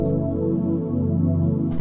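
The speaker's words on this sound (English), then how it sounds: "Very nice, kind of lush pad," The Nightfall preset in Analog Lab V plays a lush, warm synth pad with keys layered in, a sustained full chord held steadily and alone, with a fresh note struck near the end.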